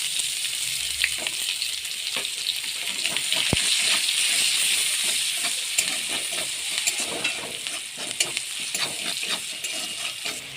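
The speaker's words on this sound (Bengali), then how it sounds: "এই তেলে দিয়ে পেঁয়াজটা ভাজা ভাজা ভাজা করে নেবো।" Onions frying in oil for a prawn malai curry give a steady, close sizzle with soft crackles and occasional stirring clicks, heard alone throughout.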